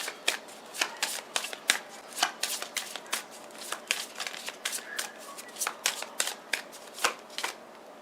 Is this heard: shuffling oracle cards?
yes